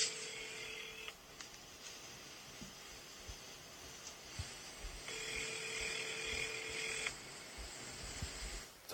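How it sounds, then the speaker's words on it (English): A telephone ringing in the background of a podcast recording, quiet repeated electronic ring bursts with steady hiss between them, no talk over it. "The phone's ringing."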